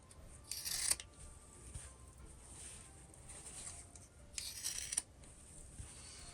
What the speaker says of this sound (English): I'm gonna go and trim this and leave about 1/8 of an inch.